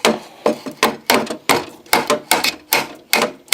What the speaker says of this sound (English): I'm just hammering these little bits out.